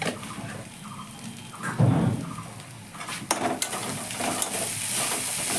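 Spiced potato mixture for egg kabiraji sizzles steadily in a pan on low gas as it is stir-fried, a continuous hissing crackle with scraping stirs and brief louder bursts, with no one speaking.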